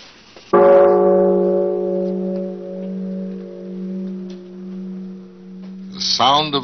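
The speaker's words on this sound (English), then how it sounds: "Sound of the bell," A large bronze Buddhist temple bell in Japan is struck once, its deep tone ringing out loud and sustained, slowly decaying with a gentle pulsing hum before another sound cuts in at the end.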